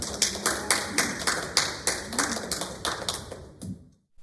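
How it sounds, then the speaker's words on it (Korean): A church congregation at a Sunday service claps to welcome a speaker, crisp claps falling in an even, regular rhythm at close range before trailing off into silence. "사모님 나오실 때 박수로 환영해 주시면 감사하겠습니다"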